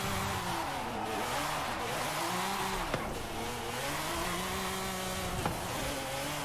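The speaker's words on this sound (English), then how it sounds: "That was a pretty sick drift." A car drifts in Forza Horizon 5, engine droning with wavering pitch as revs rise and fall steadily through the slide, with a couple of brief sharp clicks, loud and continuous.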